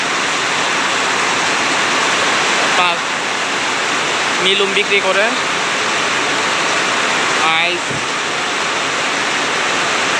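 Heavy rain pours steadily over an evening village market (pasar malam) in Kuala Kurau, Malaysia, a dense, loud hiss filling the whole scene while someone talks over it.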